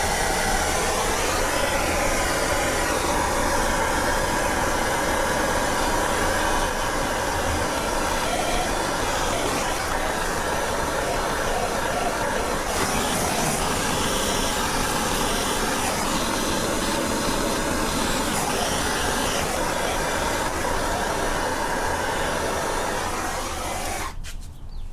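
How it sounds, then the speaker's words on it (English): A heat gun or torch roars steadily and close for the whole stretch, warming a rubber bushing in a car's front lower control arm, then cuts off abruptly at the end. "I'm going to heat this up a little bit first, just to make it a little bit easier to push that bushing out of the control arm"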